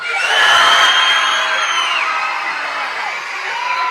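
Audience at a school summer band concert cheering and whooping loudly for a vote, a sustained burst of shouts and yells from many voices that stays strong throughout.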